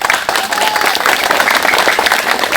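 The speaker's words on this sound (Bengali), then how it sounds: "না মুরব্বী আগে পড়ানো হাততালি দেন সবাই" A crowd at a gathering over a dispute between two temple committees claps steadily and loudly, a continuous dense applause with no break.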